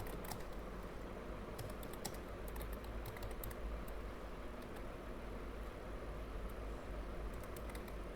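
Fingers type on a computer keyboard to enter a course name in a form, producing quick, light, continuous key clicks over a low background hum.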